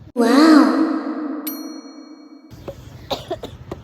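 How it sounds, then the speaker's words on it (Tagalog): A long drawn-out voiced sigh, a soft chime, then a few short, sharp coughs close by. "Inuubo na pala talaga ako."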